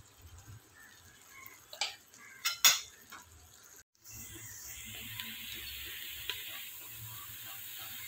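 Chicken curry masala cooking in a pan as turmeric powder goes in: a few sharp metal clinks of a spoon against the pan, then a soft, steady sizzle of frying, fairly quiet and close, with no talking.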